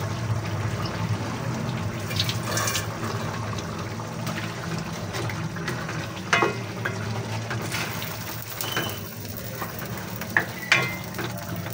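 Chicken cooking in a pan with coconut milk gives a continuous sizzle and bubbling, with occasional stirring scrapes and clinks of a utensil rising briefly above the steady frying.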